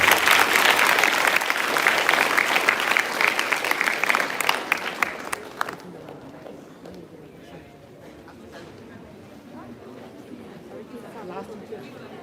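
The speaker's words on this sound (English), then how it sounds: "A big round of applause for them" Audience at a school National Science Day celebration applauding prize winners, a dense burst of clapping for several seconds that stops abruptly, leaving quiet room murmur and voices.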